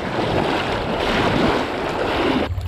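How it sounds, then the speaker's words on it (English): A raging creek current rushes in a steady, loud roar of flowing water along an old railroad river, dense and continuous up close, then briefly dropping away at the end. "Now this is raging current right here."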